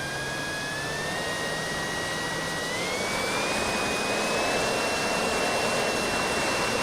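A Harrier model jet in the RealFlight 7 simulator gives a steady, loud turbine whine with a high tone that steps up in pitch partway through as power is added.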